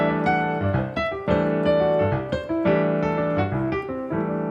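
Jazz piano playing a repeated broken-chord pattern that moves down the keys, several clusters of notes struck in a steady rhythm, close and fairly loud with no voices.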